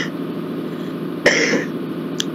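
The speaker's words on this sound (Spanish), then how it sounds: "Disculpen, pero es que tengo un poco de tos" A single sharp, throaty cough bursts out over a steady background hum, followed by a brief rasp and a faint click just after.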